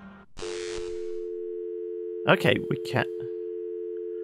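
A telephone busy signal from the point-and-click adventure game Thimbleweed Park, a steady low-pitched tone pulsing without a break for several seconds, with a voice briefly talking over it near the end.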